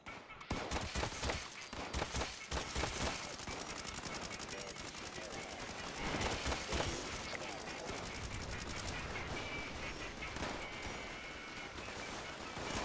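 A Tommy gun in Fallout 76 rattles in long, dense automatic bursts almost without pause, loud and close, with a voice talking faintly in the background.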